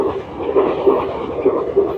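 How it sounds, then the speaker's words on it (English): A train rolls past in the 3D platformer shooter game Akimbot, a steady rumbling wash with soft periodic clacks at a moderate distance, continuous through the moment with no talk. "Just as I start, a train."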